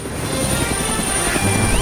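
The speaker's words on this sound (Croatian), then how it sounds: "Ko to leti helikopterom?" A helicopter flies past in a steady, loud drone with a continuous rotor rumble, filling the whole short stretch with no voices.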